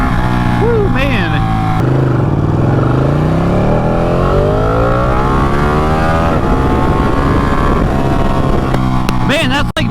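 A Ducati Panigale sport motorcycle engine revs and accelerates up close, its pitch sweeping up and down through several throttle blips, loud and continuous, with a rider's voice shouting over it at times.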